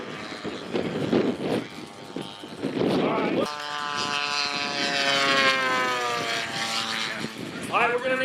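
Radio-controlled model airplane flying at the Joe Nall demo show, its engine droning with a rising and falling whine as it passes, under crowd noise and background music.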